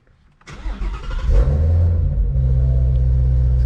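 A Shelby GT350 engine cranks and catches about half a second in, then settles into a loud, steady, deep idle with a slight rev near the start.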